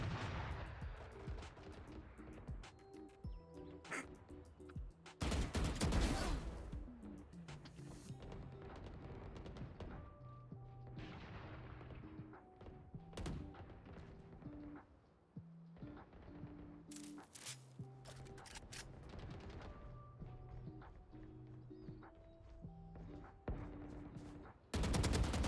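Gunfire in Valorant, a tactical shooter, breaks out in sharp, loud bursts of rapid shots at several points, with quieter stretches of game sound in between.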